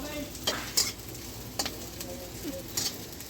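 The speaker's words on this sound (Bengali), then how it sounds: "আদা পেঁয়াজ আর লঙ্কা কুচি করে দিয়ে এখন তেল দিয়ে ভাজছে" Chopped ginger, onion and chili fry in oil with a steady soft sizzle, broken by a few sharp scrapes and clinks of a spatula stirring the pan, fairly close and alone.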